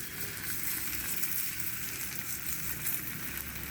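A paratha frying in ghee on a hot tawa gives a steady, even sizzle, soft and continuous throughout, with no voices.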